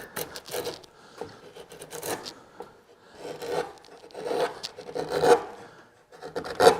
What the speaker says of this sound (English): First, we could get rid of some with a chisel more aggressively.